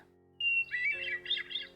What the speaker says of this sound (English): By comparison, song-wise, here's the hermit thrush.